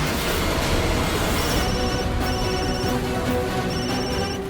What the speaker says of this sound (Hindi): ये तो उसी अमीर लड़की की माँ का फोन है।